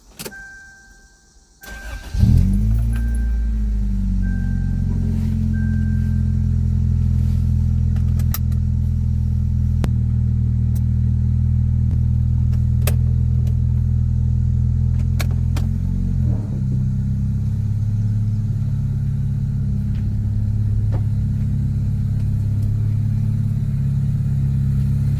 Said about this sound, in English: Exhaust leak is terrible.